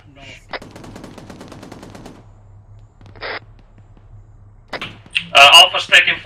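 In the Arma 3 military video game, a short burst of rapid gunfire rattles early on, followed by a single shot and then a louder, sharper volley of shots near the end, over a low steady background hum.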